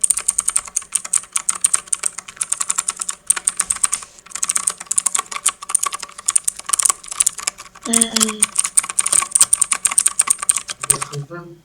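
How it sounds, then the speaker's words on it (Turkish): Rapid keyboard typing clatters up close in quick, uneven bursts with a short pause, ending in a brief vocal sound. "Arkadaşlar birazcık klavye ASMR'i."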